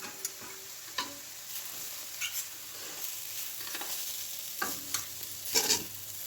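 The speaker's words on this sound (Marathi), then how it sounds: "मी मंद आचेवर एकदम ते खोबरं व्यवस्थित थोडंसं परतून घेणार आहे. आणि कंटिन्यू हलवत राहायचं" Grated fresh coconut roasting in ghee over low heat for coconut barfi, a soft steady sizzle with intermittent scraping stir strokes and light clicks, no voices.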